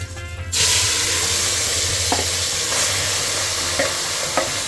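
Loud, steady sizzling of chicken in hot oil begins abruptly after a brief quiet moment, with a few soft stirring clinks over the continuous hiss.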